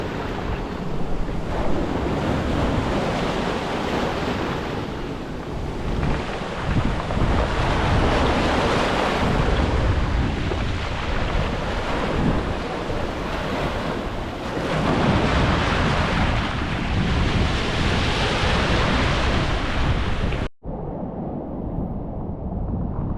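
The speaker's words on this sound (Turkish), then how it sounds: "Şimdi dalga var. Ben şimdi şu dalgayı göstereyim." Loud, continuous surf roars as waves break and wash on the shore, with strong wind buffeting the microphone throughout.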